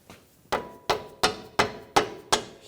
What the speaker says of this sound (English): Just use a rubber mallet.